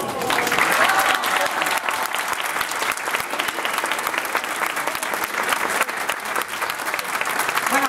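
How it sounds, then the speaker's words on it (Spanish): A large audience claps loudly and continuously for a bank choir at a 2010 event, a thick, even wash of applause with a few brighter individual claps that holds strong for nearly eight seconds. "démosle un fuerte aplauso a la GOI"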